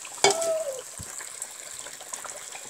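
Dry ice dropped into a pot of water gives a sudden splash followed by continuous fizzing, hissing bubbling that carries on steadily at close range.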